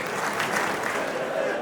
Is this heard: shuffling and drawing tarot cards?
no